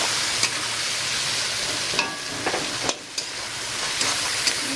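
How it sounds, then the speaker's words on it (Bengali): Turmeric, salt and spices sautéing in a pan for a fish curry give a steady, close sizzle, with a few sharp stirring scrapes and clicks breaking through. "2 চামচ লবণ দিয়ে ভালো করে মশলাটা কষিয়ে তারপরে"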